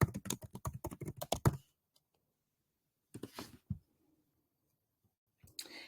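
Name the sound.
typing on a computer keyboard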